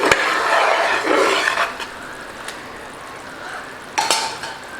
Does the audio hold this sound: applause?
no